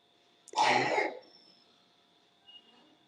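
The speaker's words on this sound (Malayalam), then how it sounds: "ചുമക്ക് കേൾക്കുന്നുണ്ട് അങ്ങോട്ട്" A single sharp cough, fairly close, lasting about half a second, then a faint trailing noise and a small click later in quiet.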